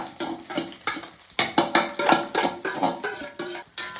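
A spoon scrapes and clinks in a pan as grated coconut, chili powder, turmeric and crushed garlic are mixed, giving close, rhythmic stirring strokes with soft rustling.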